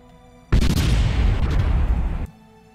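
A sudden loud explosion in the video game Kerbal Space Program, a broad roaring blast that sustains for nearly two seconds before cutting off abruptly.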